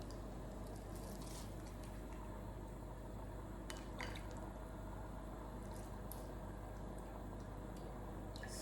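Water drains steadily from a pot while lamb biryani is cooked in a home kitchen, a constant close rush of pouring liquid with faint drips and light clinks of metal cookware.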